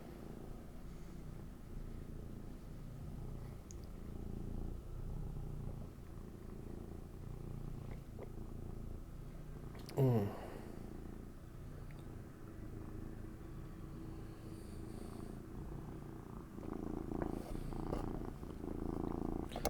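A cat purrs close up in a long, steady, low rhythmic rumble, interrupted by one brief rubbing noise midway.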